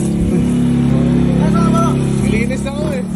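A motorcycle engine idles steadily close by while being cleaned, a constant low drone running beneath men chatting nearby.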